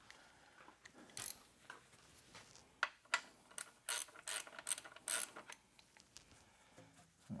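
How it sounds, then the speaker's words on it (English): Ratchet wrench clicking in quick bursts during a BMW N62 engine oil change, sharp close ratcheting with short pauses between, fairly quiet with no talking. "I'll put our rubber ratchet back on"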